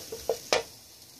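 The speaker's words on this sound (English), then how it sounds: "I'm cooking the garlic and ginger just a little bit because I think it's better if they're a little bit cooked" Garlic and ginger sizzle gently in a pan with a few scraping stirs of a utensil, close by and quiet, with no voices.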